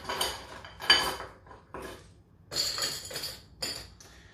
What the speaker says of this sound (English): we'll get some ice in our hurricane glass